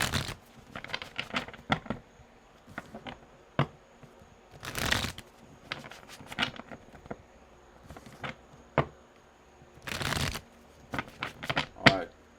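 Tarot cards being shuffled in quick riffling bursts, several rounds with short pauses and small taps and flicks between them, close by.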